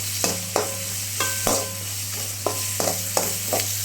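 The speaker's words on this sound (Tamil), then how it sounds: "போட்டு கொஞ்சம் எண்ணெயிலே நல்லா வதக்குங்க நல்லா ஹையில் வச்சு கொஞ்சம் நல்லா வதக்குங்க" Chopped suvarotti (goat spleen) sautéed in oil over high heat: a steady, close sizzle, broken every half second or so by sharp metal spoon scrapes and knocks against the pan, with a constant low hum underneath.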